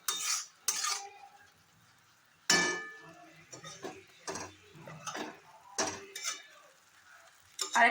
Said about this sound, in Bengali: তো আপনাকে কন্টিনিউয়াসলি কিন্তু এটা নাড়তে হবে।